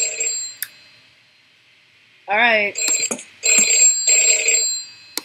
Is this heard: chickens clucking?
no